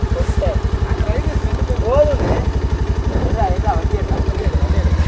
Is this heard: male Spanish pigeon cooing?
no